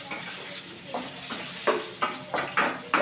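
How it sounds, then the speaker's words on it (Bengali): Potatoes frying in a pan for a rohu fish curry, with a steady close sizzle broken by several sharp stirring strokes that come faster toward the end. "তাহলে আমি আলুগুলো একটু ভেজে নিচ্ছি"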